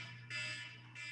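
Electronic alarm buzzer in a board of education meeting room, two short loud buzzing bursts separated by a brief pause, over a low steady hum.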